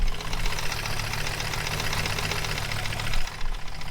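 An Audi Quattro engine idles steadily and close, a constant low rumble with a rhythmic knocking pulse throughout, no voices.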